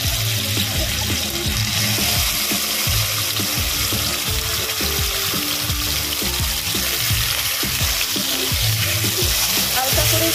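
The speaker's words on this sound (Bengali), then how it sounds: "সবার প্রথমে আমি চিকেনগুলো ভেজে নেব।" Chicken pieces frying in hot oil in a heated wok, a steady, loud, close sizzle with crackling that runs the whole time.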